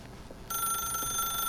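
A telephone rings in The Stanley Parable video game, a steady electronic ring starting partway in and continuing loud and unbroken to the end.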